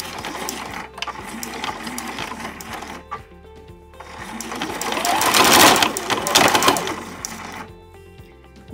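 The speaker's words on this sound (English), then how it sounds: "I'm gonna stitch right alongside the serged stitches that I have on here" A sewing machine stitches a bike seat cover alongside serged seams in short runs of rapid mechanical chatter, pausing between bursts, then a longer and louder run of stitching near the end, close by.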